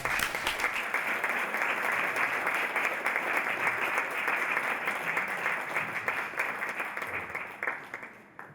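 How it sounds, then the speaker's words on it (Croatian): An audience applauds to welcome a speaker at a talk, dense continuous clapping from many hands, loud and sustained for several seconds before tapering off near the end. "Hvaležen sem za vaš pozdrav z aplauzom"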